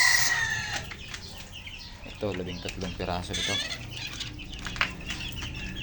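Young chicks and roosters on a poultry farm peep and cluck in a lively, overlapping flurry, with someone speaking close by throughout.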